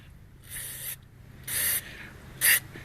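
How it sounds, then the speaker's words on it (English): Three short hissing bursts of aerosol cleaner sprayed on the idle air control valve of a 2005 Mazda MPV, each about a quarter to half second long, close by in a quiet room. "Hopefully it'll clean up with just the spray"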